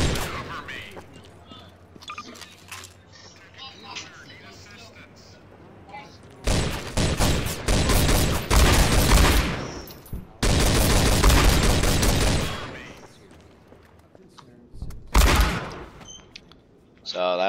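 Bursts of rapid, loud gunfire from M9K weapons in Garry's Mod come in two long volleys and a shorter one, separated by quieter stretches with faint talking in between.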